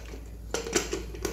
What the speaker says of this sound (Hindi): और कुकर का ढक्कन को लगा करके